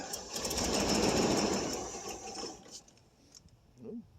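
Starter cranking the engine of a 1989 Pontiac Safari wagon that has sat off the road for 18 years after a deer hit, a loud, steady mechanical whir that fades after about two and a half seconds, followed by quiet and a brief voice.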